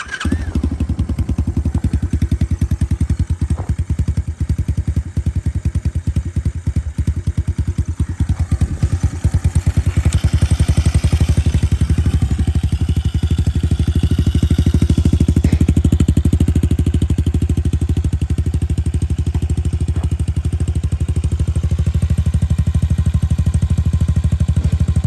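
An Amazon pit bike's small single-cylinder engine starts and then runs steadily, a loud, close, continuous buzzing putter with some mechanical clatter, the revs rising slightly partway through, with no talking.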